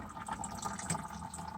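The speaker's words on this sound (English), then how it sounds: "coolant bottle cap to speed up the process, draining our coolant" Coolant drains from a Mitsubishi Delica L400 cooling system with its bottle cap off, a steady close trickling and gurgling of liquid running continuously without pause.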